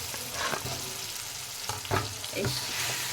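Boiled potato and tomato are stirred in a frying pan for a radish-greens dish, with a constant sizzle and a few sharp scraping strokes of the spatula, close and clear.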